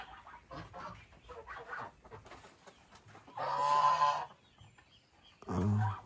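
Hens cluck and squawk in short bursts, with a louder cackling outburst midway and another near the end, fairly close by.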